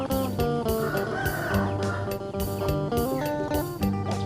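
A crowd of free-range backyard village chickens in Thailand gathering for feed: dense, continuous clucking and squawking close by, with drawn-out crowing cutting through the constant flock chatter.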